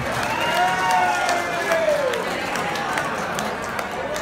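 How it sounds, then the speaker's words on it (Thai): Applause and crowd noise at a teachers' college class reunion party in a grand ballroom, welcoming the next hosts from Mukdahan. Steady clapping fills the room for several seconds under voices, with faint ringing tones from the sound system. "ปรบมือต้อนรับมุกดาหารนะครับ"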